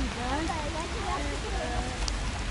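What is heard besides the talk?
heavy rain at the zoo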